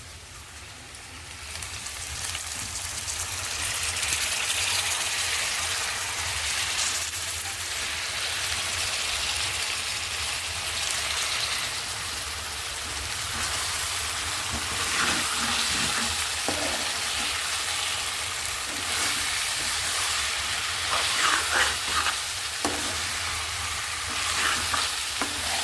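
Small dried fish fry in a pan with a continuous, close, crackling sizzle, like rain, and occasional stirring clatter that picks up near the end.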